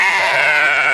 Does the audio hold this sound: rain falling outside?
no